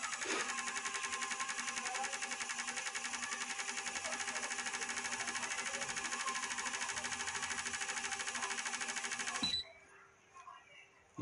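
Honda CB 300R motorcycle on a fuel-injection test bench, its engine or injector rig running with a steady, rapid mechanical chatter for about nine seconds before cutting off abruptly, leaving faint handling noises.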